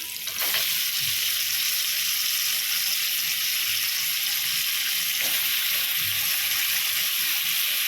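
Onions and tomatoes fry in a pan for biryani with a loud, continuous sizzle, with occasional faint clinks of stirring underneath; no speech.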